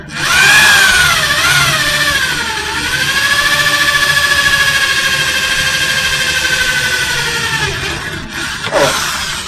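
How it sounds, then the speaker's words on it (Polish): An electric drill bores holes in a lid at low speed, a loud close whining motor with a wavering pitch that holds steady for several seconds, then dips and spins down near the end. "Wówczas wiertło będzie dobrze działać. O, właśnie. No już poszła jedna dziurka, a za drugą."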